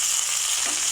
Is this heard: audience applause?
no